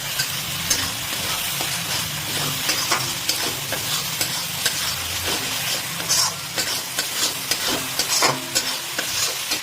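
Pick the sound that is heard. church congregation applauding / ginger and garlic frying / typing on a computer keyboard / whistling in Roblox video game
ginger and garlic frying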